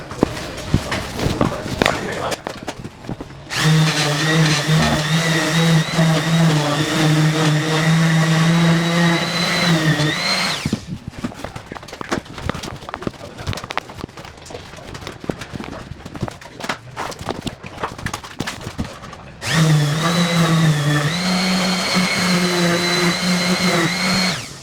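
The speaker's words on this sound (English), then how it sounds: "I'm gonna give it that little bit of a finishing off sanding and ease the corners" A power sander whines loudly in two long runs, smoothing the sawn wood of an attic ladder, stopping for several seconds of scraping and handling noise in between.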